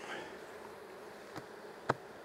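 Honeybees buzz in a steady, moderately loud drone around a hive that is being cleared of bees, with two brief sharp knocks or clicks cutting through near the end.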